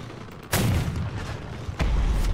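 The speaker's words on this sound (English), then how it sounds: "I'm officially out of cannon shells by missing the whole time" Heavy cannon fire in the vehicle combat game Crossout: two loud, deep booming shots about a second apart, each with a sharp onset and rumbling low tail, no talk over them.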